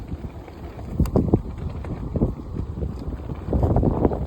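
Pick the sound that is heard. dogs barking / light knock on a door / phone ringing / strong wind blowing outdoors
strong wind blowing outdoors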